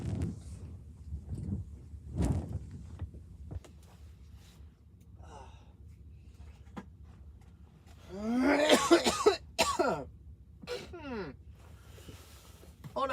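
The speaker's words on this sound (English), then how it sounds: "I am getting sick and tired of this cough." A person coughs several times in scattered bursts, with throat clearing and strained vocal sounds in between, close to the listener.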